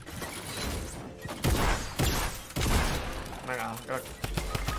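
Gunfire in the Fortnite battle royale game: bursts of loud, sharp shots around the middle of the clip, mixed with excited Spanish voices talking over the action.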